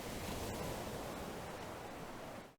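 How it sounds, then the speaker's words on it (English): Steady broadband wash of ocean waves, continuous and fairly loud with no distinct breaks, then cutting off abruptly at the end. "We have the ocean waves here,"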